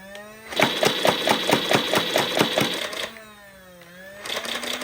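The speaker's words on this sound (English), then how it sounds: "I'm gonna empty this thing right into the basket, like just so you can see how quickly it empties out" A Nerf Aliens M41a Pulse Rifle fires a fast, even burst of about ten electronic shots until the magazine runs empty. A whirring motor whine follows, then a brief lull and more whirring.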